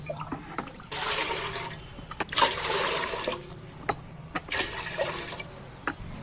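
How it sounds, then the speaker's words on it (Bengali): Water is poured into a cooking pot in three bursts of splashing and gushing, separated by short pauses with light drips and knocks. "এবার আমি ডেচকি বসিয়ে জল দিয়ে দিচ্ছি।"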